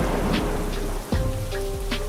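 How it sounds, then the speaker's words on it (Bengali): Heavy rain pouring steadily with a dense hiss, broken by a deep rumble of thunder partway through. "ঝুম বৃষ্টি শুরু হয়ে যায়"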